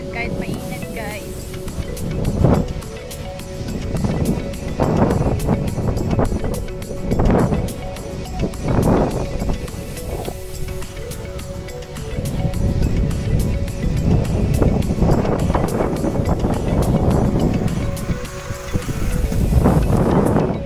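Steady wind roars and buffets the microphone on a hillside road overlooking the sea, a loud continuous rush that swells and dips throughout, with voices briefly over it.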